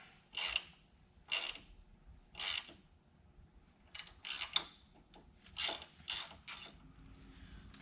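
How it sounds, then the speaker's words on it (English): A wrench is rocked back and forth on a rusted bolt on the upper control arm of a GMC Sierra 2500HD pickup, producing about eight short, squeaky creaking grinds at uneven intervals, close and fairly quiet. "I'm just kind of wiggling, going back and forth to break the rust free"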